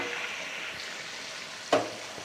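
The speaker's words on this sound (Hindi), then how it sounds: "इसके बाद आपने सब्जियों को इसके अंदर डाल देना है।" Vegetables tipped into a pan of mixed pickle and stirred in, giving a steady frying sizzle with one short, sharp clatter near the end, close and alone without talk.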